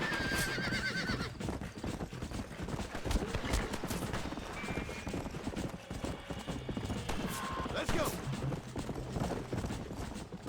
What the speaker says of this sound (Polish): Dobra, mamy konia tutaj pod sobą